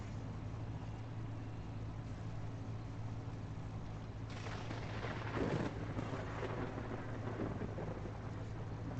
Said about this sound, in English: Thunder on a clear sky.